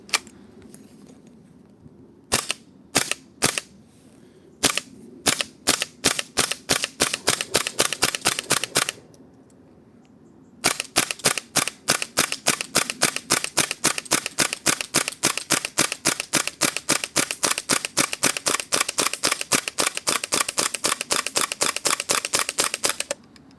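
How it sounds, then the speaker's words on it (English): Modify PP2K gas blowback airsoft gun firing green gas outdoors in about 5°C cold, sharp close snapping shots first in irregular bursts, then after a pause a long rapid regular string of dozens of shots. "Shooting the PP2K by Modify, not really being known for good gas efficiency"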